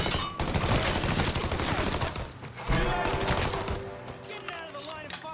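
Rapid bursts of automatic gunfire crackle in dense, overlapping volleys during a firefight in the video game Mafia III, loud and close, with shouting voices mixed in under the shooting.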